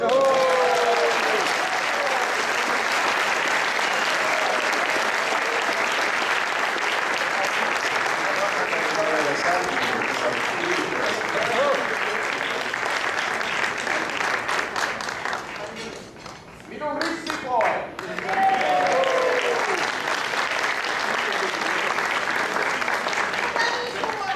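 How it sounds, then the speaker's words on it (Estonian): An audience at a ball gives stormy applause: sustained, loud clapping from a large crowd with voices mixed in. It dips briefly partway through, then swells back to full strength. "Meie honoraarium Aivaril on tormiline aplaus."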